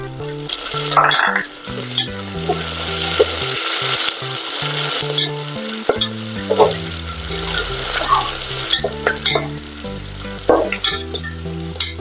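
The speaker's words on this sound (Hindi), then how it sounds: "अभी इसमें हम हरी मिर्च डालेंगे और साथ में हम लाल मिर्च भी डाल देंगे।" Green and red chillies sizzle in hot oil with fried ginger and garlic while being stirred in a pan, a loud, steady frying hiss with scraping spoon strokes throughout.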